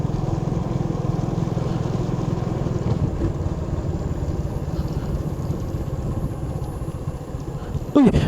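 A loud motorcycle engine drones steadily up close on a road, a rough revving motor rumble with wind noise, ending in a sharp bump.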